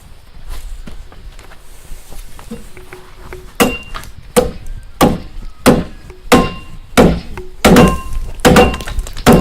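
An axe hews wood off a beam, working it back toward a marked line. Several loud, close thunking chops land in an irregular rhythm after a quieter start, and no one speaks.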